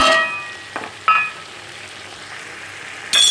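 Chicken frying in a pan as tomatoes and green chilies are tipped in: a steady soft sizzle with sharper hissing bursts at each addition, close and alone.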